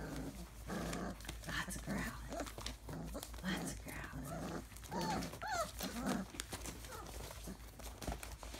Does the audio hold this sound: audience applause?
no